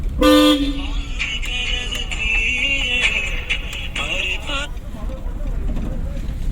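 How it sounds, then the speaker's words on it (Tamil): A car horn blares in a short loud burst, followed by traffic noise and people talking in the background. "ஹார்ன் அடிச்சுக்கணும் அப்படியா?"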